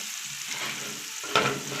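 Onions frying in a pan give off a continuous close sizzle, with a sharper stirring scrape just past the middle.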